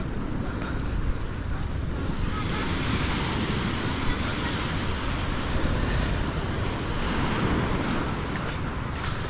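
Steady rushing surf of sea waves at a beach in Caba, La Union, with wind buffeting the microphone, a continuous broad wash of noise throughout.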